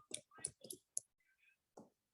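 Keyboard typing, a short run of sharp, close key clicks with uneven spacing and a brief pause before a final tap, alone in a quiet room.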